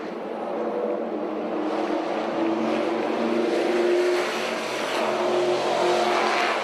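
Race cars at Bristol Motor Speedway in a steady, loud roar of engines passing around the track, with a faint tire squeal and no talking.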